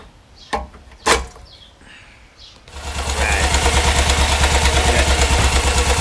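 A 1957 BMW Isetta 300 single-cylinder engine, just after a carburetor adjustment, starts after a couple of knocks and settles into a steady, fast, loud idle that runs to the end with no talk.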